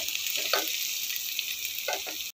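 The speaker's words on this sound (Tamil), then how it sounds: "இந்த டைம் நம்ம 2 கட் பண்ணி வச்சுருக்க பச்சை மிளகாவை போட்டு வதக்கிக்குவோம்." Cut green chillies sautéing in a pan with golden-brown onions for tomato pulao, giving a steady soft sizzle with a couple of brief stirring sounds, close and without talk.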